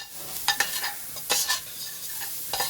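Onions sauté in oil in a pot, a soft sizzle beneath a few sharp stirring scrapes and utensil clicks spaced across the moment, fairly quiet and close.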